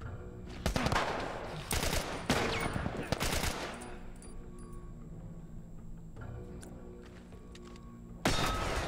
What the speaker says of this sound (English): everyone's shooting me